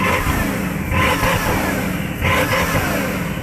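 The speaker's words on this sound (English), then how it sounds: "I'm going to rev up my absolutely huge 16-cylinder quad turbo" A big 16-cylinder quad-turbo car engine revs up loudly in two surging bursts over a steady rumbling idle, close by.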